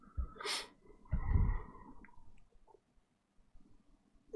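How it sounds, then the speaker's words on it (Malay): A deep inhalation is drawn in just before a Quran recitation, with a strong breathy burst near the start followed by a long, loud intake, then quiet with faint small sounds. "Tarik nafas."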